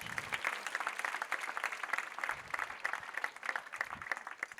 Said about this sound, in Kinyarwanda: Abantu bakumvise bakomera Imana amashyi.